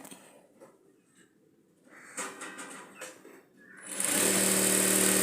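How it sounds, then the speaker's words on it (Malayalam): A sewing machine starts up to stitch the front piece of a blouse, first with quiet handling noises, then a steady, loud motor whir that runs alone for the last second. "ഈ ഭാഗമാണ് ഞാൻ ആദ്യം മെഷീനിലേക്ക് വെച്ച് സ്റ്റിച്ച് ചെയ്യാൻ പോകുന്നത്"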